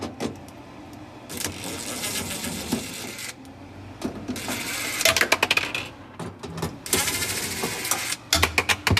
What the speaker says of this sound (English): let's go ahead and remove these back screws